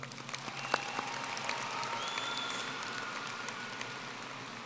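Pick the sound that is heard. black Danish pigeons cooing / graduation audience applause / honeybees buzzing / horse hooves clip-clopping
graduation audience applause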